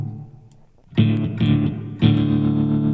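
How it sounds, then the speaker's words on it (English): A guitar played through a DIY digital clean/crunch amp with a Melda spring reverb plugin, three strummed chords with a gritty, distorted edge and reverb tails ringing under each, loud and close. "make the Melda reverb for spring sounds a bit more nasty with his tone control."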